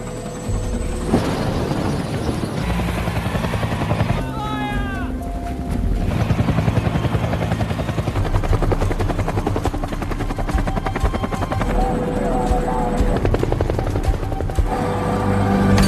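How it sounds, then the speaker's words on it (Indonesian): Two military helicopters loaded with ammunition fly out on a resupply mission, their rotors producing a steady, loud, continuous drone that lasts throughout, with a few brief mechanical whines layered on top. "lalu mereka pun berangkat dengan 2 helikopternya"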